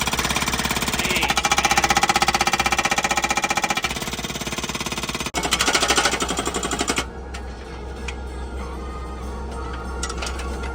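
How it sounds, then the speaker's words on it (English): A jackhammer pounds a very thick poured concrete slab at a house pad, a loud, continuous rapid hammering that drops in intensity partway through and keeps chattering alone. "This is Sheldon's first time running a jackhammer"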